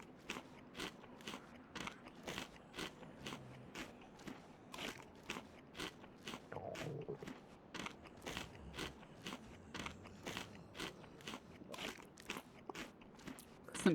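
A character in the DayZ video game eats crunchy tuna, giving a steady run of loud, close crunching bites at a regular rhythm throughout, with no talking.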